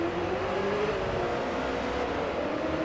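Ford GT Mk1 with a V6 in Forza Motorsport 2023, its engine bogging down in first gear: a steady, strained drone whose pitch climbs only slowly, loud and close with no other sounds.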